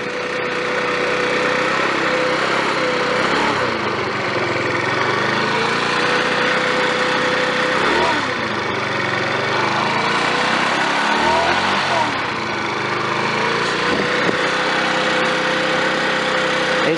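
A 50cc scooter engine idles steadily and loudly at close range for the whole stretch, with a buzzy, slightly uneven tone and small dips in speed.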